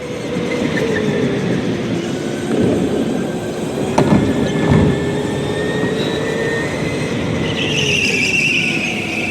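Racing kart engines roar together at a race start in the dark, a loud continuous drone with rising and shifting pitch from several nearby karts, swelling mid-clip.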